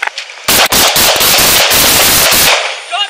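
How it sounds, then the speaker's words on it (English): A burst of roughly half a dozen gunshots rings out on a Los Angeles street during a kidnapping and stolen-car incident, sharp loud cracks in quick irregular succession, then an abrupt stop. "Shots fired! Shots fired!"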